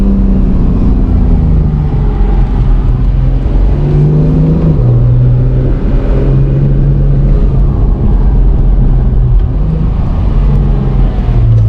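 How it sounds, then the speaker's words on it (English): A 2019 Acura NSX engine and turbo under acceleration, heard from inside the cabin with the windows down, a loud continuous drone that climbs in pitch through several gear shifts, no talking. "the turbo noise from this car is really awesome"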